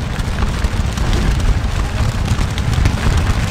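Musket volleys from massed infantry in the Napoleonic battle game Scourge of War Waterloo, a dense continuous rumble of overlapping shots and booms with no gaps, loud and steady throughout.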